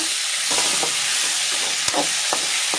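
Chopped onions and tomatoes fry in a pan for chicken masala, a loud, close, continuous sizzle with the scrape of a spoon stirring every second or so and no talk.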